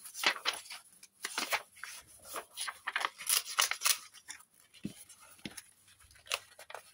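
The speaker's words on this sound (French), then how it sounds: "je les déchire mal, je le sais" Paper envelopes are torn apart by hand for scrapbooking, giving repeated rough ripping and crinkling bursts, close and fairly loud, with short pauses between tears.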